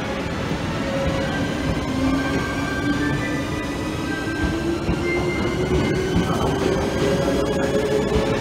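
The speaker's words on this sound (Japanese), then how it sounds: "ちょうど回送列車が発車するみたいだから見ましょうか。" An out-of-service Japanese train rumbles steadily nearby, with wheel and motor tones rising slowly as it pulls away from a station, plus faint squeals and a low continuous roar throughout.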